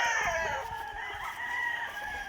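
A white Kelso gamefowl rooster crows at a game farm, one sustained, fairly faint call with no talk over it.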